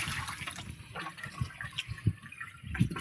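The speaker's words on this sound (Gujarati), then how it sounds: "ફટાફટ પાણીની જગ ભરીએ." Water pumped from a borewell pours and splashes into a jug, a fluctuating gurgling rush with sloshing bursts, moderately close and fairly quiet.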